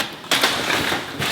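Packing paper and cardboard crinkling and rustling while parts for an off-road Creeper build are unboxed, a steady close crackle with sharper bursts of handling.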